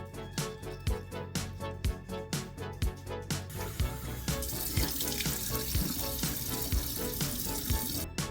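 Water runs steadily in a shower during a face-washing routine, a continuous splashing rush that grows fuller and denser partway through, with no one talking.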